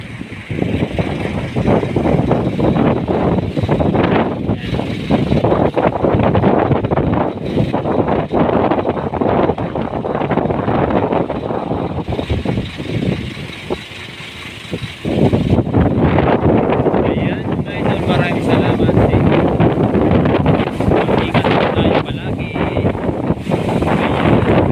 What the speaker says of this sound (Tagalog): Hangin lang, hangin lang.